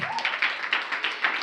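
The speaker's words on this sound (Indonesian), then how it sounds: "berikan tepuk tangan" A small group claps in applause at a youth church service, a brief burst of a few distinct rhythmic claps, close and moderately loud.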